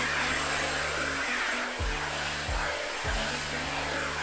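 Hair dryer running on maximum airflow and maximum heat, a loud continuous rushing blow close by, with a faint low motor hum that dips and wavers a few times.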